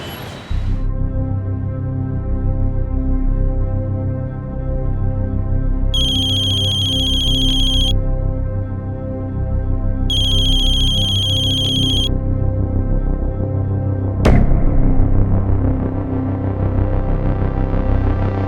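A telephone rings out loudly in repeated bursts with pauses between them over a steady low hum. A sharp click near the end briefly breaks the pattern.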